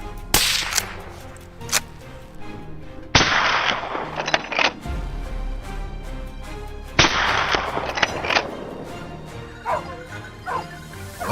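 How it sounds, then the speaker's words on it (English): Rapid gunfire aimed at a herd of wild boar in fields and underbrush, a string of sharp cracks with echoing bursts across the open ground, loud and close, with fainter reports trailing off. "he opened fire. The rapid gunshots echoed, swiftly taking down the lead boar."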